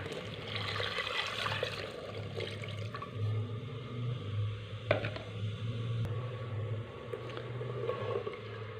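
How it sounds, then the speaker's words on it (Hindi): Almond milk streams steadily into freshly made sugar syrup in a pot while making almond sharbat, a continuous close liquid pour and trickle with a few small clinks, no talking. "अब हम इसमें बादाम वाला जो दूध है वो डाल देंगे।"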